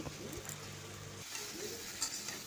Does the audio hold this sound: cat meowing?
no